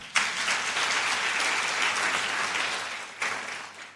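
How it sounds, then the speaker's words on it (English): An audience at a women's conference breaks into dense applause that starts sharply, holds steady for about three seconds, then dips before a brief second swell. "Let's clap for them."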